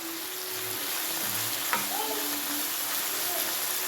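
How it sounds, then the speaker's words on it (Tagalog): Garlic, onion, tomato and pork sauté in a pan for mung bean stew, giving a continuous close sizzle with a light stirring scrape partway through. "Ayan na atin ang ginigisa ang bawang, sibuyas, kamatis at saka yung pork."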